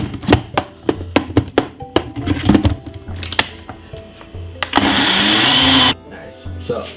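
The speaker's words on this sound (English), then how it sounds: "Blend this about 5 minutes" A kitchen blender whirs through a honey smoothie for about a second, loud and steady, following a run of sharp knocks and thuds as the lid and jar are handled.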